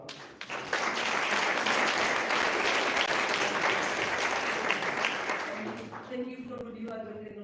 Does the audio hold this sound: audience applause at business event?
yes